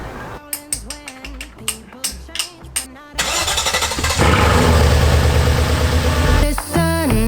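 A Mercedes SL500 with stuck fuel injectors cranks in a rapid series of churning bursts, then catches and settles into a loud, rough-running roar.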